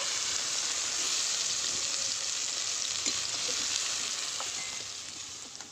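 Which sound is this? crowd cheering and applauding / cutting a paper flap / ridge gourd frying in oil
ridge gourd frying in oil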